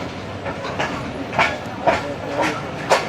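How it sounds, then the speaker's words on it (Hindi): The Awam Express passenger train rolls through Kotri Junction in Pakistan, with a loud, close rhythmic clickety-clack of wheels over rail joints, repeating roughly every half second over a steady rumble. "तो ये खिलती चमचमाती हुई 13 अब आवाम एक्सप्रेस आप देख रहे हैं कोटरी जंक्शन पे"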